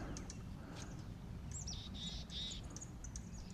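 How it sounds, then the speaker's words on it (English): A mountain chickadee on a hiking trail chirps in a few short, high calls, moderately close, over a steady outdoor hiss and faint insect buzz; no one speaks. "That'd be a mountain chickadee."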